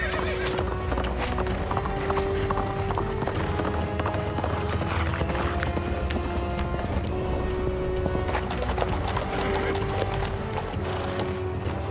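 Horses clip-clop at a steady run with a whinny, hooves close and loud within a dense period-drama soundtrack full of tonal layers.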